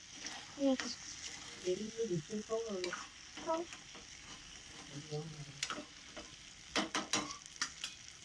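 Pasta is stirred in a hot pan, heard as close sizzling with soft scraping and clacking taps of a utensil, while a voice talks over the cooking sounds.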